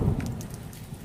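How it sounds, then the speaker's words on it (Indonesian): Rain falls steadily on a mountain hiking trail on Mount Gede, a dense wash of drops with a low rumbling undertone, brief and unbroken, no speech. "hujan."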